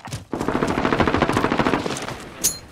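An automated sentry gun in Call of Duty Modern Warfare fires a fast, sustained burst of loud rapid shots for about two seconds. A short sharp metallic clank follows after the burst.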